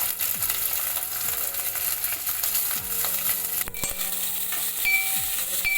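Boiled potatoes fry in a pan for a halwai-style aloo tamatar sabzi, with a constant oily sizzle and intermittent scraping stirs from a spoon against the pan, close and without voices.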